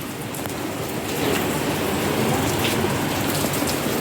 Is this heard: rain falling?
yes